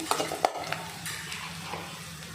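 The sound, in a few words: onions frying in a pan for tomato thokku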